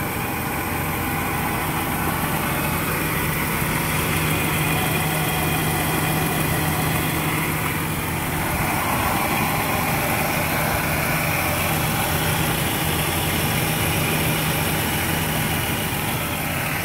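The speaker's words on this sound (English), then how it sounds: "Look at the engine compartment." The engine of a 2003 Nissan Xterra idles steadily, heard up close as a continuous even hum and rumble with no speech, holding unchanged throughout.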